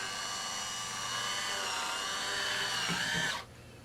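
A HOMEJOY electric wine opener drives into a wine bottle's cork, a continuous close motor whir that climbs slightly in pitch before stopping abruptly near the end.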